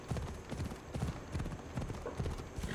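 Horse hooves clip-clop in a steady trotting rhythm in Assassin's Creed Odyssey, with an occasional faint whinny, moderately close and without talk.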